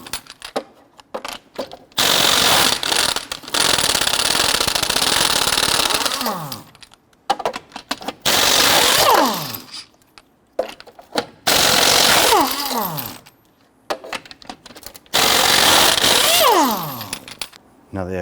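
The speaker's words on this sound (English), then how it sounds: "Using a 22mm socket, you want to go loosen and remove your lug nuts." A 22mm socket on an impact gun loosens and spins off lug nuts on a 2006-2014 Honda Ridgeline, with four loud bursts of whirring that wind down at the end of each, separated by pauses.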